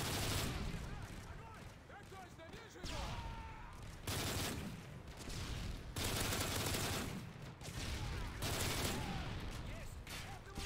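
A dense, loud explosion and heavy gunfire fill an MW3 Survival match on the Dome map, with sustained blasts and rattling shots across the whole stretch and no voices.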